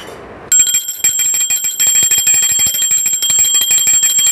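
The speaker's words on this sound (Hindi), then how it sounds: "आरती में घंटी का ध्वनि ज़रूर होना चाहिए" A bright metal prayer bell rings rapidly and continuously during Hindu aarti worship for Navratri, a fast steady tinkling that starts abruptly and carries on loud and close.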